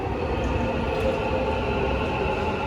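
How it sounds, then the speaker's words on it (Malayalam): A Dubai Metro train, driverless, arrives at a station with a steady low rumble and hum, continuous and fairly loud. "അപ്പോൾ മെട്രോ വരുന്നുണ്ട് കേട്ടോ"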